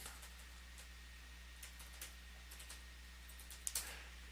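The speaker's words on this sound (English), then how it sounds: "if I start typing stuff in" Sparse, faint clicks of typing on a computer keyboard while entering text into a web browser, a few isolated keystrokes spread over a quiet background hum, with a slightly louder pair near the end.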